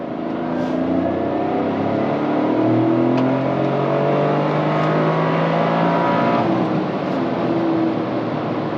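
A Toyota GR Corolla accelerates hard in sport mode, its turbo engine note climbing steadily through a long gear, loud and continuous from inside the cabin with no talk.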